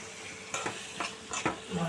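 Chopped raw mango being stirred into a salted spice paste for mango pickle, a few short scraping strokes at close range over a faint background hiss, no one speaking.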